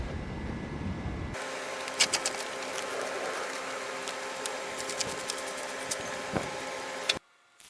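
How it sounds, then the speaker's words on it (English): Chipping hammer chiseling a shallow drain channel into a concrete patio, a sustained loud rattling hammer with sharp intermittent impacts, stopping abruptly near the end. "That chipper hammer is loud."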